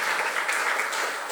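A church congregation applauds during a worship service, a short burst of dense, continuous clapping at steady loudness with no pauses.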